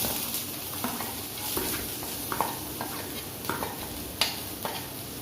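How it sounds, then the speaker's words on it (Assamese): Onions frying in a pan for dal tadka, a steady hiss of sizzling oil with scattered soft scrapes and taps from a spatula, close and moderately quiet. "পিঁয়াজ দি দিছোঁ।"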